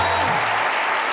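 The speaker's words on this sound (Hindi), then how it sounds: "जोरदार तालियां बजती रहे" A studio audience on a comedy talk show claps in a thick, continuous burst of applause, close and loud, with a short tonal sound sliding under it at the start.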